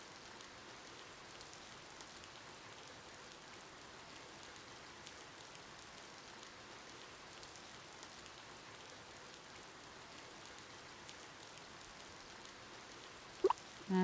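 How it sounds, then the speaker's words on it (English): Rain falls steadily in the farming and creature-raising game Ova Magica, a soft, even hiss of drops on surfaces that stays faint and unchanging, broken by a couple of brief clicks near the end. "It's raining today."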